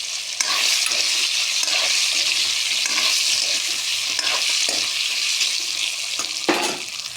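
Boiled potatoes coated in turmeric fry lightly in a pan, making a loud, continuous sizzle broken by the scrape of a spatula turning them several times.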